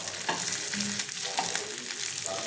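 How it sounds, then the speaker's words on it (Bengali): Lote shutki fritters wrapped in pumpkin leaves fry gently in hot oil, giving a soft continuous sizzle with faint crackles and a few light stirring clicks, close and fairly quiet. "এটা আমি আস্তে আস্তে ভেজে নেবো"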